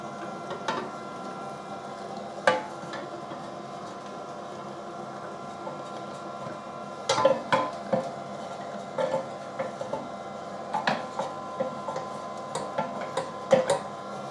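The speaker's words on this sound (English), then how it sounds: "I will start mincing that whole mix again through this blade" Meat mincer grinding a Spanish bratwurst sausage mix through a 2 mm blade: a steady mechanical motor drone with irregular clicks and knocks, sparse at first, then clustering more often later on.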